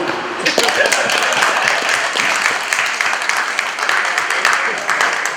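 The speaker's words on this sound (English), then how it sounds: "Clap for me." Dense applause from an audience at the launch of an enhanced e-passport by a Minister of Interior, steady and fairly loud for the whole stretch, with speech mixed in.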